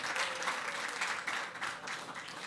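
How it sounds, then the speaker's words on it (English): An audience at a youth resilience event claps for an introduced guest, a steady, moderately loud patter of applause with slight surges, lasting the whole moment. "A round of applause for him,"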